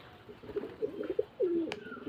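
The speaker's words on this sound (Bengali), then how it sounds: "আমার ভাই পায়রা মানে ডানা কেটে গেলে আর বিচ্ছিরি লাগে মানে সব পায়রা ওড়াই" Pigeons coo close by in a loft setting, several soft low throaty phrases rolling one after another with a longer drawn coo near the end, a brief higher chirp over steady background hiss.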